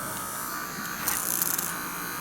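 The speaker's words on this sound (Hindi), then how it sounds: "ये इंजन अंदर ही घूम रहा है" A small starter motor in a school model spins with a steady, thin electric buzz that grows slightly louder and rougher midway through.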